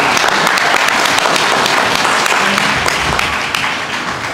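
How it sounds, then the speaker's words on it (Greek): At a school award ceremony, an audience applauds loudly and steadily, the close, thick clapping continuing throughout before easing slightly at the end. "Ένα χειροκρότημα για την Μελίνα."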